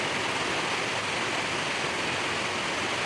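Heavy rain pouring down during a monsoon downpour: a dense, steady, loud hiss of falling water, unbroken throughout, with no talk.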